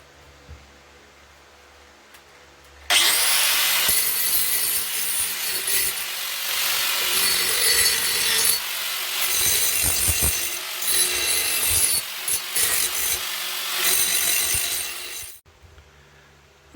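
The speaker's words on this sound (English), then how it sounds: "I just want to grind this up just a little bit" An angle grinder dresses freshly cut steel on a classic car exhaust during a leak repair: a loud, harsh grinding roar lasting about twelve seconds, varying in pressure, with quiet before and after.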